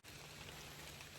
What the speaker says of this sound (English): It's raining real good.